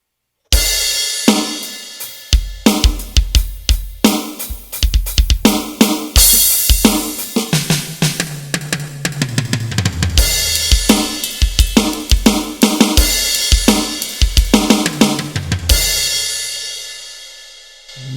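Electronic drum kit on an aggressive ballad setting, with punchy kick, snare and cymbal hits in a steady rhythm, loud and close, ringing with reverb between strokes and no talking.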